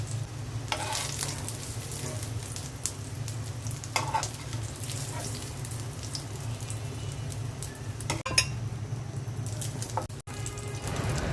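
Egg-dipped potato and meat chops sizzle in hot oil, a constant crackling hiss up close, broken by occasional sharper pops and spatters.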